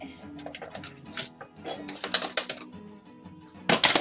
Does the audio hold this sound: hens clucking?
no